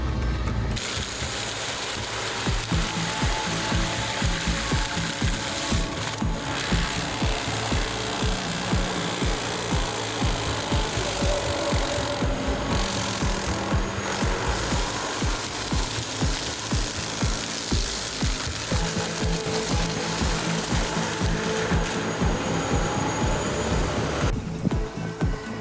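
A large hydraulic tree-cutting machine processing dense vegetation and huge trees produces a loud, continuous mechanical clatter and grinding that barely lets up for over twenty seconds.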